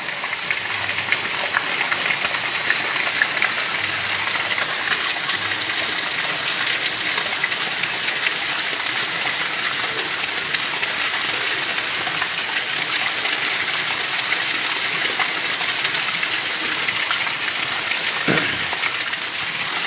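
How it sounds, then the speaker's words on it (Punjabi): Steady downpour of heavy midday July rain, a constant broad rushing hiss of water, with a brief low thump near the end and no voices. "ਕਾਫੀ ਜ਼ਬਰਦਸਤ ਮੀਂਹ ਆ ਉਹ ਦੇਖੋ ਪਾਣੀ ਕਾਫੀ ਕੱਢ ਗਿਆ ਬਾਰਿਸ਼ ਜ਼ਬਰਦਸਤ ਹੈ"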